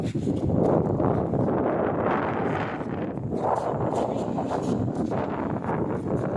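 Steady wind gusting against the microphone, a continuous broadband rush with no pauses, loud and close throughout.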